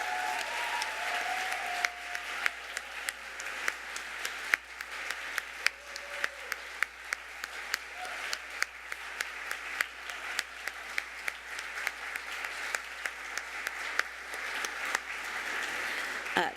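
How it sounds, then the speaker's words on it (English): An audience at a youth awards ceremony gives sustained applause, with steady, moderately distant clapping and a few sharper individual claps standing out. "how about we show them a little love with a thunderous round of applause for each of"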